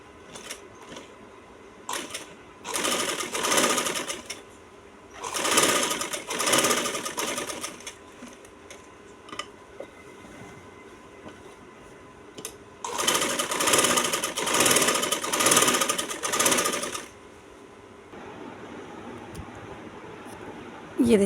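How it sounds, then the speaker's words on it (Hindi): A sewing machine stitches across each box of a hand-embroidered dress, running in several long bursts of rapid, steady clatter with short pauses between them, close and clear above a quiet room. "तो अब मैं इसको सिलाई लगाऊंगी। हर एक बॉक्स पे इस पर सिलाई लगानी है"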